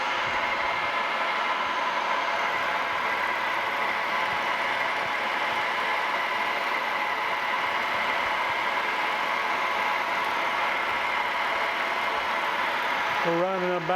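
A metal lathe turning a custom steel shaft for a drill press gear repair at about 1,200 RPM, giving a steady close mechanical hum and whine throughout, with a brief shift in tone at the very end.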